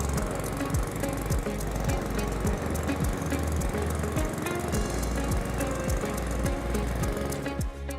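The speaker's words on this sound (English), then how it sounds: "I've already primed it, so pull the recoil and it will start." A Cobra M40CVX petrol lawn mower running after a recoil start, a loud, steady, rapid engine chug close by that holds for several seconds and dips slightly at the end.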